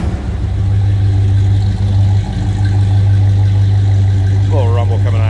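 A 1969 Buick Wildcat engine idles with a steady, loud low rumble that holds throughout, with a brief dip in the middle and a short burst of talk near the end.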